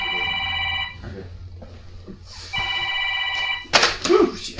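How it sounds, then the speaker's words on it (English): A telephone ringing indoors: a harmonic electronic ring lasting about a second, a pause, then a second ring, followed by rustling and handling noise as someone moves toward it, fairly close. "Telephone. Where's the phone?"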